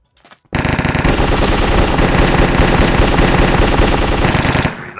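A long, unbroken burst of automatic gunfire fired without a scope in a CS:GO-style shooter, loud and close, running steadily for several seconds after a short click and cutting off at the end.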